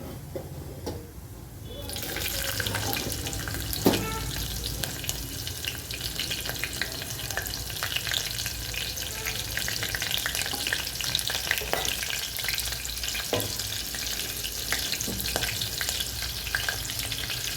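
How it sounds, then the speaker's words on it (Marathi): Cumin seeds and green chillies crackle and sizzle in hot oil as a tempering for a fasting-day barnyard millet rice dish, a steady close frying hiss that jumps in loudness after a quiet first two seconds, with occasional stirring clicks. "त्यात आपण फोडणीसाठी जिरे जिरे छान फुलले की आपण त्यात टाकून घ्यायची आहे मिरची"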